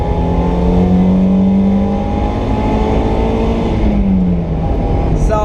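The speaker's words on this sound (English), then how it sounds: "Now we're just going to do a quick second gear pull." A Mazda Miata engine revs loud and close during a second-gear pull. The pitch holds steady and strong, then eases off near the end, and it continues without a break for several seconds.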